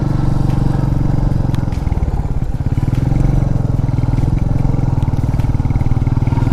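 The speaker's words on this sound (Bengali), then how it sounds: "এক নম্বরে উঠছে আমার গাড়ি" A motorcycle labours up a steep, rough hill road in first gear, its engine loud, close and steadily throbbing throughout.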